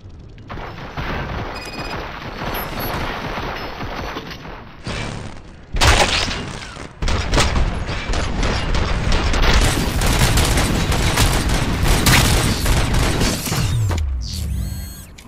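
Rapid, loud gunfire and mechanical clatter from the video game Robocop: Rogue City fill the scene, with heavy booms and smashing impacts, a brief pause, then a renewed sustained barrage.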